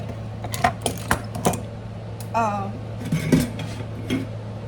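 Juice is drained from canned pears into a butter dish, coming through as a few sharp metallic clinks and scrapes of can and dish followed by a brief pouring trickle, close and fairly quiet.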